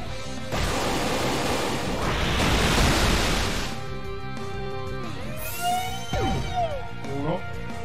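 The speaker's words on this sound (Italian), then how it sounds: "di nuovo cascata." Steady roaring wash of a waterfall in the Pokémon Y video game, loud and continuous, with electronic game tones and sweeping effects layered over it in the second half.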